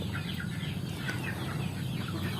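Free-range kampung chickens cluck softly and steadily inside an intensive rearing coop, a continuous murmur of several birds close by with no voices.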